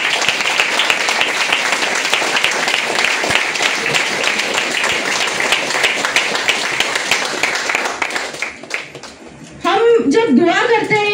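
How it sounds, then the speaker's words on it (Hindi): A live audience at an indoor talk breaks into loud, sustained applause that holds steady for several seconds, then fades, and a voice begins speaking right after. "प्लीज उनके लिए एक जोरदार ताली हो जाए।"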